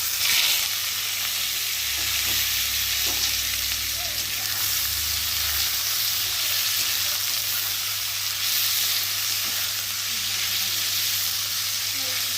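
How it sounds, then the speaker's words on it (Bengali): Potatoes frying in hot oil in a wok give a loud, steady sizzle with a continuous hiss that runs throughout, uninterrupted by speech. "আর এখন আমি তেলের মধ্যে আলুগুলোকে দিয়ে ভালো করে ভেজে নেব"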